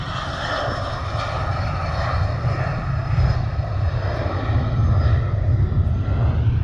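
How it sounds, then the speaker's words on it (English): An airplane takes off with a steady, droning engine roar that swells slightly. It sounds somewhat distant and continuous throughout, with no talking. "You got the plane taken off?"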